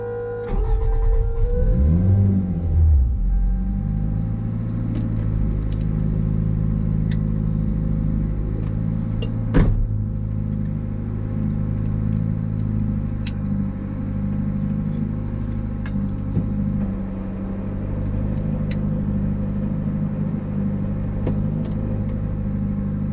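A car with a dog-box transmission, shifted gently like a daily driver. A short rev near the start settles into a steady, close engine drone with faint mechanical clicks and no talking.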